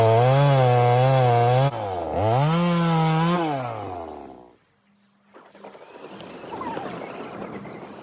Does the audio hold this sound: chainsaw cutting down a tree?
yes